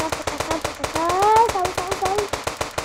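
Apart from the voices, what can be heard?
gunfire from sniper rifle in GTA 5 video game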